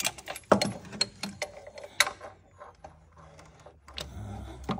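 A VW 2.0 TSI engine is turned by hand as its valves strike something, producing irregular close mechanical clicks, knocks and ratchet-like ticks, with no talking.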